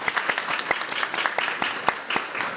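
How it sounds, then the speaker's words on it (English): A small audience claps steadily, scattered individual claps blending into light applause that continues throughout, with no voices over it. "So can everyone give them a big round of applause?"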